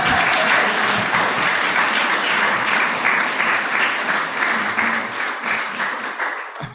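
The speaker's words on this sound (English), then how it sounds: "I'm always encouraged when people still applaud at the end" An audience in a hall bursts into dense, sustained applause at the end of a photography talk. The clapping is loud at first and gradually thins and fades toward the close.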